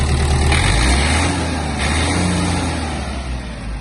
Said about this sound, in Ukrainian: Ось так працює гарний мотор. Давайте дамо трохи газу.